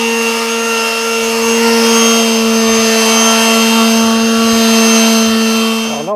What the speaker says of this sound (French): Alors un petit coup de ponçage pour abattre l'arête.